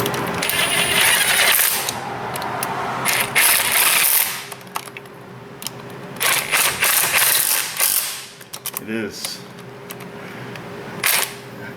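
A ratchet works in quick bursts of clicking as bolts are tightened back down on a Chevy S-10 4x4, with short pauses and scattered metallic clinks between runs.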